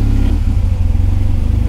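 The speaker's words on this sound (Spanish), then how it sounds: "Ahí comenzó a bajar las revoluciones y como fallar," Car engine idling roughly on its own, misfiring and dipping in revs before surging, with a steady loud low rumble and uneven pulsing throughout; no talking.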